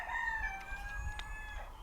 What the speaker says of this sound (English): My neighbours have got chickens.